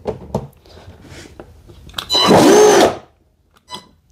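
Pair of 12 volt motors fed from a 24 volt supply through a variable speed controller, spinning up to full speed in a loud whirring burst of about a second, then braking to silence, with scattered clicks and handling noises around it.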